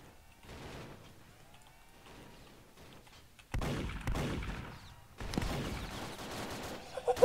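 Cannon fire in a zeppelin battle in the video game Roblox Zeppelin Wars: quiet mechanical rumbling gives way to dense, loud bursts of rapid booming volleys that continue to the end, with a brief gap between barrages.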